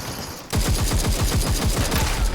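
Rapid automatic gunfire in the battle royale game Super People 2, a sustained burst of evenly spaced, punchy shots that starts abruptly after a brief lull and continues steadily, loud and close.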